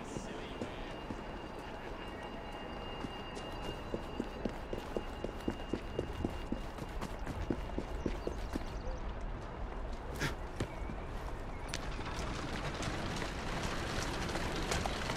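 Horse hooves trot in a quick, steady clip-clop rhythm over a constant background hum in the video game Assassin's Creed Syndicate, growing slightly busier toward the end.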